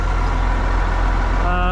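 A tractor runs a Pottinger mower off its PTO, giving a loud, steady, close engine drone. A higher whine joins near the end as the drive engages.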